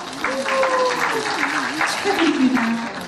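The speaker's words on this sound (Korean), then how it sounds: "여러분 큰 박수로 맞이해주십시오." Audience applause at a Korean traditional music awards ceremony, a sustained burst of clapping under a loud announcer's voice speaking over it, with music tones running through.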